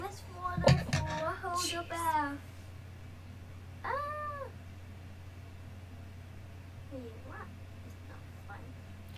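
A cat meows a few times, a longer call near the start followed by shorter meows a couple of seconds later, close and fairly clear against a steady low hum.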